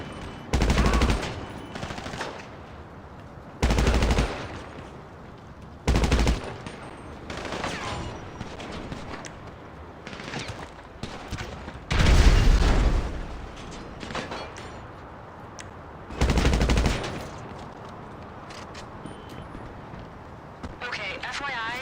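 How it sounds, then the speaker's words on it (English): Mark II rifle fire in GTA 5 Online, repeated loud bursts of automatic gunfire in short volleys spaced a few seconds apart, with a voice talking between and over the shots. "I'm using that Mark II rifle with limited ammo"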